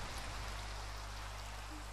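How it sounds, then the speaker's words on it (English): Steady rain pours down in a blocky building game world, a dense, even hiss over a low constant hum, fairly quiet throughout with no talking. "It keeps raining."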